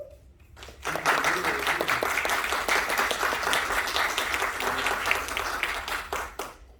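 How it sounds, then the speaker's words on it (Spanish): An audience at a Congress of Peru event bursts into a strong round of applause that swells after a quiet first second, holds steady for about five seconds, then fades. "¿Le damos un fuerte aplauso?"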